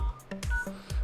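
Keypad tones from a Nokia 8 dialing a hidden test-menu code, four or five short separate beeps at an uneven pace, close and clear with no talk.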